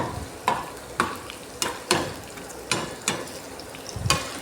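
An onion, garlic and cumin tempering for dal sizzles in hot oil, a steady crackle punctuated by about eight sharp rhythmic spatula knocks against the pan, close and without talk.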